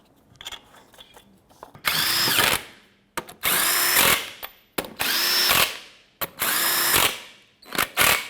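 A power tool whirs in four sustained bursts, each rising then easing in pitch, with short clicks between, as it tightens the lug nuts on a rear wheel of a 2003-2021 Chevrolet Express 3500 van. Close and loud, with no talking.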